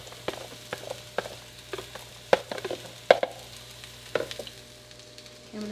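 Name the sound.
food sizzling while sautéing in a pan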